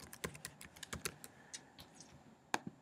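Quiet, close typing on a computer keyboard as an email address is entered: a rapid, uneven run of light key clicks, with one sharper tap near the end.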